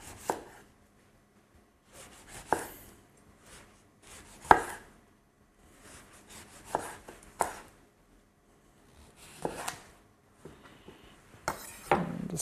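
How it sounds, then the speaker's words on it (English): A knife slices a lemon thinly on a cutting board for a Persian rice pilau, giving a series of sharp, separate chops with short pauses between them, close and fairly loud, with no talking. "Then we'll slice our lemon up"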